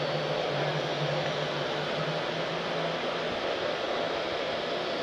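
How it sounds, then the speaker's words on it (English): A steady, broadband whooshing drone runs throughout, like a vacuum cleaner motor humming nearby at constant volume, with no talking. "I'm right now vacuuming"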